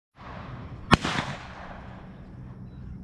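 A single sharp 12-gauge shotgun shot cracks out against quiet outdoor background during dove hunting, then rolls away in a fading echo over a few seconds.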